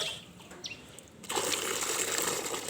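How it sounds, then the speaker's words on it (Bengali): Water pours into a large container, part of a ten-litre top-up while mixing liquid organic fertilizer for a rooftop garden. After a quiet start, a loud, steady gush begins abruptly and keeps running close by. "দশ লিটার আরও জল দিয়ে ভর্তি করা হলো টোটাল পঞ্চাশ"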